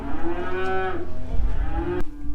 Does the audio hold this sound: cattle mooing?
yes